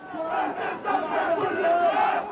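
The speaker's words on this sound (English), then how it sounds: "relatively modest crowds demonstrating against events in Gaza" Crowd of protesters demonstrating in the centre of Ramallah, many voices chanting and shouting together in a steady rolling roar at moderate distance.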